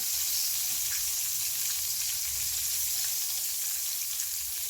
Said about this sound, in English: fry that okra, and I'm going to show you how fast that works